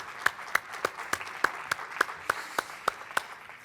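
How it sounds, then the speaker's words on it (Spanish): A conference audience at a medical talk gives welcoming applause, a single prominent clapper beating a steady pulse of about a dozen sharp claps over a softer bed of scattered hand clapping. "Un aplauso"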